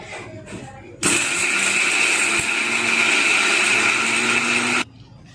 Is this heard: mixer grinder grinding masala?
yes